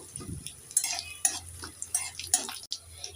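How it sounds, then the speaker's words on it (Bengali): About a dozen garlic pieces and half a spoon of whole cumin stirred in hot oil, a quiet crackle with repeated light spoon scrapes and taps against the pan at an uneven pace. "দশ বারোটা রসুনের টুকরো দিয়ে দেব হাফ চামচ গোটা জিরে একটু নেড়ে চেড়ে দিয়ে দেবো"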